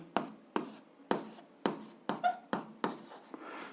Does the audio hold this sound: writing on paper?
yes